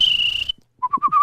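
A whistler mimics the call of the New Caledonian ashy crested bird: a long, high, steady whistled tone, a short pause, then a quick run of three or four chirping notes, close and clear.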